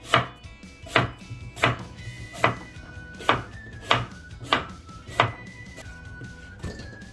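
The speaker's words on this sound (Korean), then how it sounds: "요것도 나박나박 썰어줄게요." A knife chops an apple into thin square slices on a cutting board, with about ten sharp, evenly spaced chops close by, each ringing briefly, and no talking.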